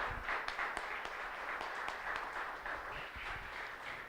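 A church congregation in Santo André applauding during a worship service: a steady, dense wash of clapping from many hands, moderately distant and continuous throughout.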